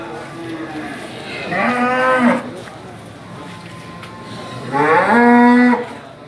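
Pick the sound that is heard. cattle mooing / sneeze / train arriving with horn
cattle mooing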